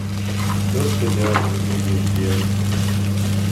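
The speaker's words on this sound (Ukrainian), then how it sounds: "Квашену капусту тут смажу." Steady, loud sizzling of sauerkraut frying in a pan, with a constant crackle and a low hum underneath.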